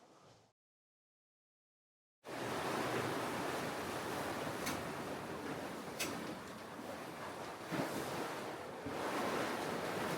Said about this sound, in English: Wind has picked up to 23 knots